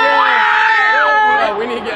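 Fans crowd the street after the KSI versus Logan Paul fight, a dense roar of shouting and cheering voices close around, with chanting and yelling rising and falling throughout.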